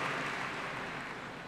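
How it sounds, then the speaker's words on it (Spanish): An audience applauds a speaker at a family-harmony congress, a faint, even wash of clapping that holds steady throughout the short stretch. "Demos un fuerte aplauso al doctor Tomás Merendo"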